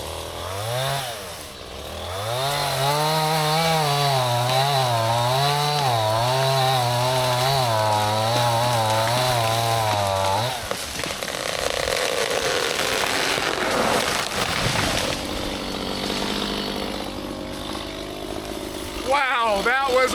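A chainsaw cutting the hinge to fell a tree, loud and close with a wavering revving pitch that drops off after about ten seconds, followed by cracking, crashing wood and shouting voices as the tree comes down.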